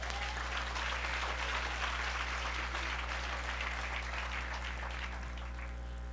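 A church congregation applauding the Lord, sustained dense clapping from a crowd that holds steady for several seconds before easing slightly at the end, over a constant low hum.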